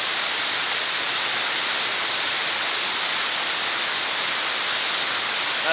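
Palisade Falls at Orient Bay, Northern Ontario, roars as a steady, dense wash of falling water heard close up amid heavy spray, loud and unbroken with no other sounds.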